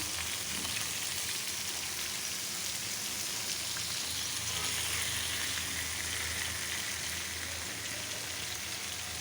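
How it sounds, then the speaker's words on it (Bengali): Pieces of rohu fish fry in hot oil, sizzling and crackling steadily and close up for the whole stretch, with no talk over it. "মাছগুলি ভাজতেছি।"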